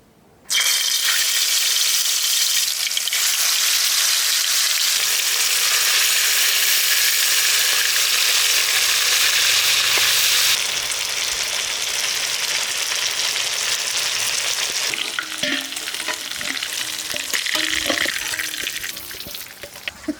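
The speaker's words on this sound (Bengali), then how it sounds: "এবার আমরা মাংসটা ভেজে নেব।" Chicken meat frying in a pan for chicken changezi, a loud, steady sizzle that starts abruptly and runs throughout, easing slightly partway, with a few soft clatters near the end and no talking.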